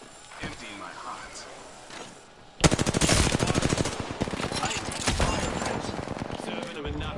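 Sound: gunfire in the video game Apex Legends

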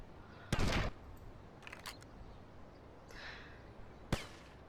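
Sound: gunfire in a video game

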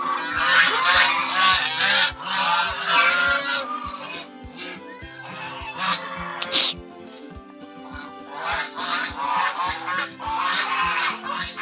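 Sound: ducks quacking noisily on a farm

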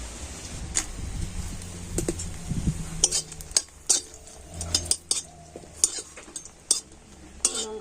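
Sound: frying dried red chillies in oil in a pan

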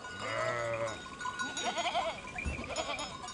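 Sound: sheep bleating at a market

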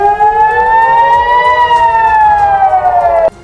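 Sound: air raid sirens sounding in northern Israel

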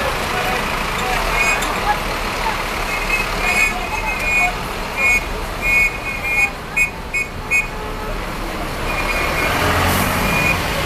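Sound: 1001 company bus maneuvering at Novo Rio bus station

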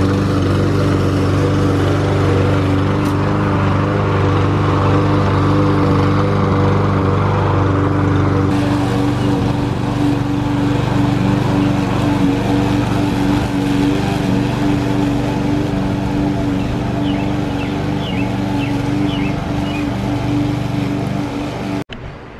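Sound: lawn mower running outdoors

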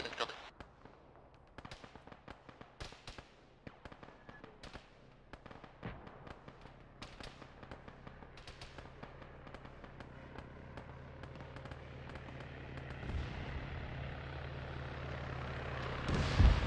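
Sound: cannon fire in video game Arma

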